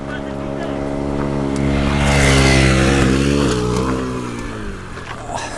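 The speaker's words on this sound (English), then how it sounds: "have a guy in a motorbike rolling up and down now" A motorbike riding up and down nearby outdoors, its engine note climbing and swelling to a loud pass in the middle, then falling away as it moves off, with some talk alongside.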